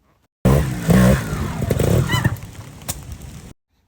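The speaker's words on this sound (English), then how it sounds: "First up is stalling your bike." A trials motorcycle engine sputtering and revving briefly before stalling out in a section, loud and close, with the sound fading into rough low rumbles and then cutting off.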